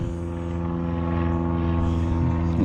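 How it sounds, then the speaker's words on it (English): A small airplane passes overhead outdoors near a fifth-wheel hitch, giving a steady, droning propeller-engine hum that holds at an even level throughout without any talk. "A little airplane flying over top. You can hear that."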